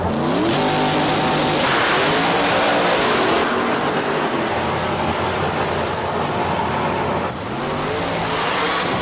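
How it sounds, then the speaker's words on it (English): A pro mod drag racing car engine revs hard and loud, its pitch climbing and dropping in repeated surges with a continuous raw roar close by. "There's no way I can make my car sound like that"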